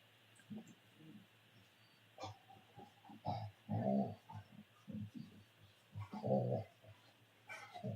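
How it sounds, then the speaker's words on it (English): Dogs indoors growl, whimper and let out short barks in irregular bursts, fairly close, over a steady electrical hum with quiet gaps between outbursts. "you can probably hear the dogs, but they're just being dogs."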